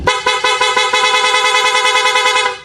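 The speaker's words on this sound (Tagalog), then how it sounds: "todo bigay yung buga ng busina mga sir" A loud, close motorcycle horn on a Yamaha Sniper 150 with a low battery, sounding in a rapid string of short pulsing honks, continuous for a couple of seconds before fading.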